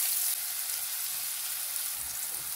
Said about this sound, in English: Now to this I'm adding like a tablespoon of butter.